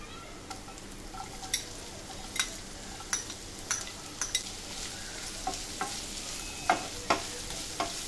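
Sliced onion frying in a pan for a baby corn sabji, a steady low sizzle broken by repeated short scraping stirs of a spatula, close and fairly quiet, with no talking.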